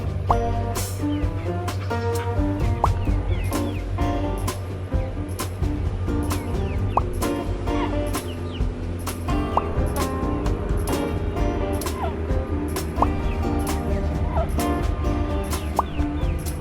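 Backyard flock of ten hens clucking close by, a busy overlapping chorus of repeated clucks and short calls that goes on throughout with no talking.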